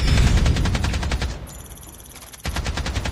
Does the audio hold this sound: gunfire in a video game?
yes